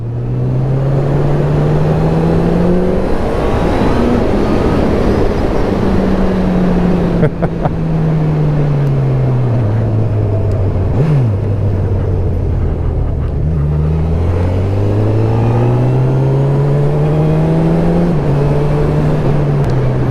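A Honda CB1000R motorcycle rides country lanes with a loud, continuous engine drone. The revs rise and fall through gear changes and throttle, and wind rushes strongly at close range.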